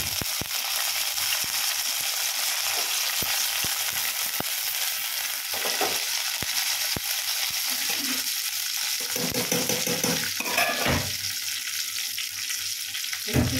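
Hot oil sizzles loudly and continuously in a pan, with sharp ticks and a few bursts of louder crackling as tempering spices and curry leaves hit the oil.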